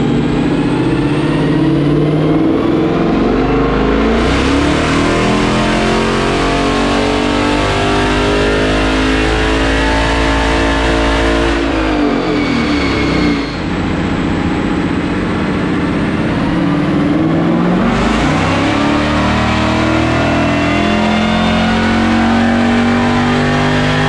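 A supercharged 2015 Roush Mustang engine roars loudly on a dyno, making two sustained full-power pulls separated by a brief drop in revs near the middle, with dense harmonic engine tones throughout.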